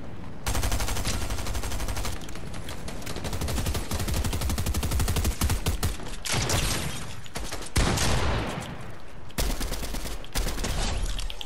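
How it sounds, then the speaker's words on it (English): Dense, loud bursts of video game gunfire fill a free-for-all pit match, rapid automatic fire with overlapping shots and brief gaps, continuous throughout with no talking. "Who keeps shooting me?"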